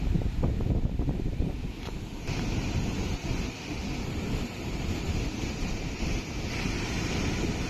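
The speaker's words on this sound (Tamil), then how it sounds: "இப்போதாங்க இவ்வளோ தண்ணி போகுது தண்ணி சவுண்டே பயங்கரமாக இருக்குங்க" Water pours loudly over the spillway of the Thamaraipakkam dam, a steady broadband roar like surf with wind buffeting the microphone, continuous and close throughout with no voices.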